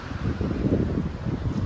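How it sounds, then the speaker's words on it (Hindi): Strong wind blows outdoors, buffeting the microphone in a continuous low rumbling roar with gusty swells and no voices over it. "बहुत ज़्यादा हवा चल रही है भाई, बहुत ही ज़्यादा"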